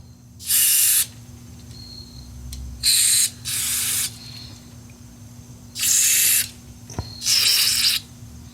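Compressed-air spray blasting through a lawn mower carburetor, five loud hissing bursts of about half a second to a second each, separated by short pauses, with no talking.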